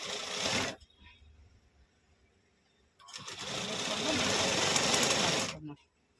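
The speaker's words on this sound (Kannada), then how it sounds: "ಇವಾಗ ಸ್ಟಿಚ್ ಹಾಕ್ತೀನಿ ನಾನು ಇದು ವೆಲ್ವೆಟ್ ಆಗಿರೋದ್ರಿಂದ ಎಮ್ಮಿಂಗ್ ಏನು ಅವಶ್ಯಕತೆ ಇಲ್ಲ ಸ್ಟಿಚಿಂಗ್ ಹಾಕ್ತೀನಿ" A sewing machine stitches velvet blouse fabric in two close, loud bursts of rapid mechanical whirring, a short run followed by a pause and then a longer run of about three seconds.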